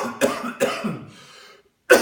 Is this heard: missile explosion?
no